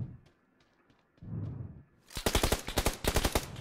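Rapid automatic gunfire in a video game bursts out after a quieter stretch of faint clicks and rustle, a close, loud string of sharp machine-gun shots filling the final second and a half.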